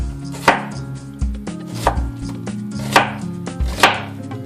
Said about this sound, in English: I'll just cut that in half, and that'll give me some nice thin pieces